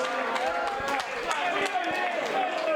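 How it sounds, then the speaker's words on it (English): An audience at a pool shootout quarter final claps steadily for JJ Faul, dense applause filling the room throughout. "a big round of applause here for JJ Faul"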